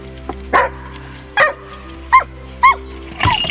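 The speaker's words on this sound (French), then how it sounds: "C'est une chienne rouge de Hanovre." A female Hanoverian scent hound gives four or five sharp, separate barks spaced about a second apart, close and loud against a steady low background hum.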